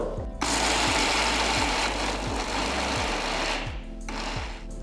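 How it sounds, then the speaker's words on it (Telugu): A kitchen mixer grinder runs loud and steady, dry-grinding peanuts and coconut for chutney with no water added, its motor whirring with a regular chopping pulse from the blades, briefly starting up and dipping near the end. "ఇప్పుడు నేను నీళ్లు పోయకుండా ఫస్ట్ రుబ్బపోతున్నాను"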